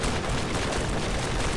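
Rapid gunfire in the shooter game B2B Apocalypse, a dense continuous burst of shots filling the whole moment at steady loudness with no talk over it.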